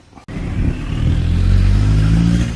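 A car engine starts pulling away near a temple by the Mae Klong river in Samut Songkhram, a close, rising rumble that builds and holds steady.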